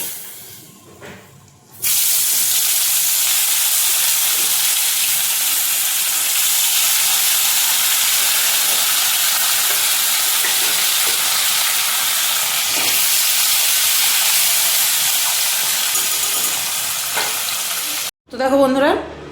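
Fish fries in a small kadai of oil left over from frying brinjal, a loud, steady sizzling hiss that starts abruptly after a quiet moment and runs on continuously before cutting off near the end.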